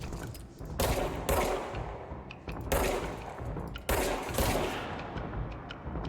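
Bursts of video game gunfire from Control, loud and close, with several dense volleys of rapid shots separated by brief pauses and echoing tails.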